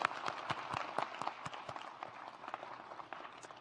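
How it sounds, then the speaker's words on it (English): An audience applauds at a graduation celebration: a faint, dense patter of many hands clapping, with sharper individual claps standing out, tapering slightly toward the end. "Let's give all of them a round of applause."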